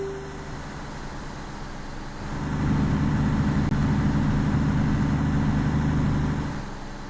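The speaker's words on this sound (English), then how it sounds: "If I ease off the gas a bit, it sounds more natural." A truck engine in the Alaskan Road Truckers PC game drones at a low steady idle, then swells louder and rumbles evenly for several seconds before easing slightly.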